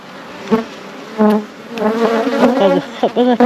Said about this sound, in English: you can see how calm the bees are